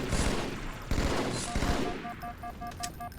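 Battle rifle gunfire in the Halo 2 video game, loud rapid bursts of shots cracking close by in quick succession, followed by chirping electronic game tones as the firing tapers off.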